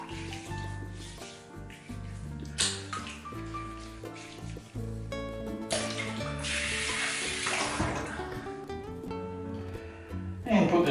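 Water runs from a tap as a face is re-wet during a wet shave, heard as a splashing stream that comes and goes over background music, with a few brief louder gushes.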